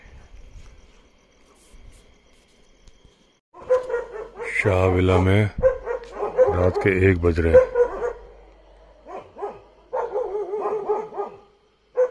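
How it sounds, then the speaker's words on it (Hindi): Dogs bark and yelp at night around Shah Villa in Mohan, several loud bursts of barking and whining coming in clusters mid-clip, while someone talks quietly before and between them. "कुत्ते बहुत भौंक रहे हैं"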